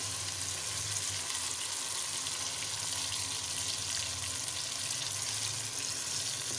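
Marinated chicken sizzles steadily in a hot karahi while desi murgh karahi cooks, a continuous close frying hiss with no talk.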